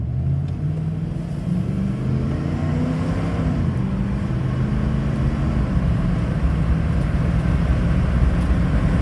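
A car with a remapped automatic transmission valve body accelerates at half throttle, a steady close engine rumble with rising pitch and a gear shift partway through, continuous and without talk.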